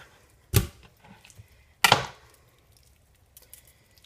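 A knife chopping down through raw chicken thigh onto a cutting board; two sharp, close chops about a second apart, then quiet with faint small taps.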